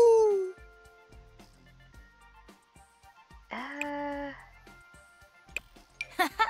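A dog howling in The Sims video game, with one long, rising and falling howl, clear and close, set between quieter game sounds and a few short yips toward the end.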